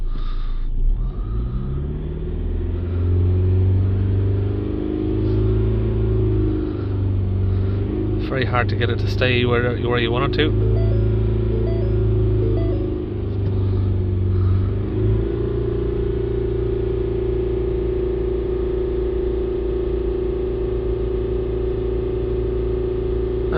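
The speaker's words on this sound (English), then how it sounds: "We're going to hold the revs up." A 2.0 diesel engine in a Ford Transit MK8 is held at raised revs during DPF regeneration, giving a loud, steady rumble that rises and dips as someone speaks over it.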